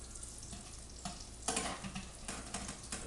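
Thin eggplant slices frying in hot oil, a steady crackling sizzle with brief louder bursts as the slices shift in the pan, no voices.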